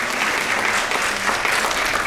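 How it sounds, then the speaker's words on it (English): Steady applause from an audience at a college decision day event honoring girls' basketball and volleyball champions, a dense continuous patter of many hands clapping throughout. "Round of applause."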